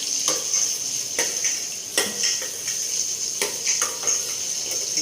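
Okra stir-fried in a home kitchen pan, a steady bright sizzle with a rhythmic series of spatula scrapes and clicks against the pan, close and without talk.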